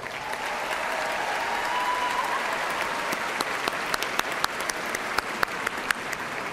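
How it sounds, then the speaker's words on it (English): Sustained applause from a university commencement audience, a dense wash of clapping that continues steadily, with a few sharper individual claps standing out near the end. "please join me in showing your appreciation for these very important people in your lives with a generous round of applause"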